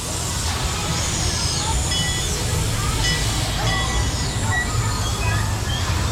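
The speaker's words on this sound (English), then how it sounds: "Train's coming into station right now," At an amusement park in Farmington, Utah, a park train rolls into the station with a steady low rumble and squealing, screeching wheel tones over a busy outdoor background, moderately near, as a person talks over it.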